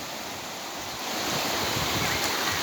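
Ocean surf surges onto a beach as a continuous broad wash of water noise that swells louder about a third of the way in and stays close and steady, with no talk.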